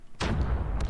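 Grenade blast in the mobile shooter COD Mobile: a sudden loud boom that rises sharply and then rolls on as a sustained, rumbling roar through the rest of the moment, with brief gunfire-like crackle near the end.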